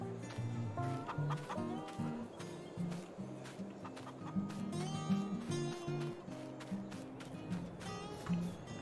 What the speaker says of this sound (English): We're up to like 200 chickens now, so that's pretty good.